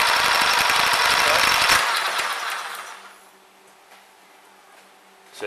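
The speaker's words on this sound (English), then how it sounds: "The motor's moving." A car engine runs during an ignition timing light demonstration on a wasted spark ignition system, giving a loud, rapid mechanical rattle and hum for the first two seconds before fading to a quieter idle.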